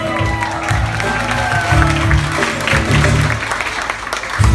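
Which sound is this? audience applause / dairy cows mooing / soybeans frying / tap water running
audience applause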